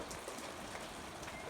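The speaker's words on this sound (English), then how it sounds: "I'm still getting rained on" Steady rain falling outdoors, a dense, even hiss of drops close by that fills the whole moment without letting up.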